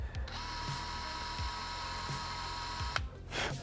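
A drill whirs steadily with a high mechanical whine and repeated low clicks as it bores into a steel motorcycle component on a 2018+ Kawasaki Ninja 400, then stops abruptly near the end.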